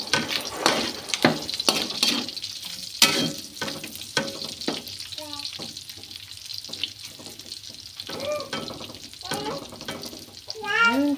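Meat frying in its own rendered fat for Filipino gisadong gulay, crackling and sizzling in bursts with stirring scrapes and clatter of the pan, fairly close, with faint voices in places.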